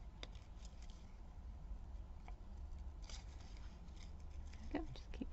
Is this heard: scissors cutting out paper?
yes